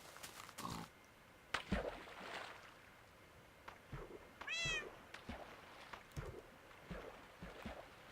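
A cat meows in the Minecraft video game, one short bright meow among scattered game clicks, splashes and footsteps, quiet overall with no talking.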